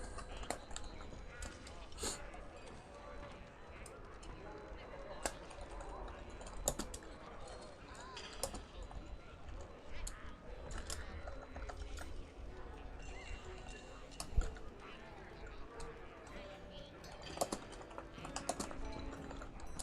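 Keys clatter on a computer keyboard in irregular bursts, fairly close and moderately loud, with a low steady background hum and a few sharper clicks.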